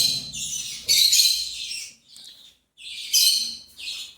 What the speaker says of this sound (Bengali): দেখো পাখি দেখছো